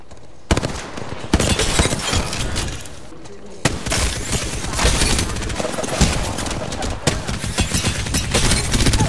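Rapid bursts of gunfire from Hemlock and Devotion weapons crackle through a video game match, loud and dense with short pauses between volleys, while a voice talks over the shooting.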